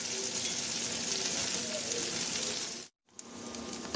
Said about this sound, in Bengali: পেঁয়াজ মরিচটা ভাজা হয়ে গেছে, তুলে নেব এখন।